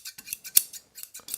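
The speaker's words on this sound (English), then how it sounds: "once you close the scissors" Freshly sharpened scissors snip and close repeatedly, giving a quick run of about ten sharp metallic clicks and scrapes, close and loud with no talking.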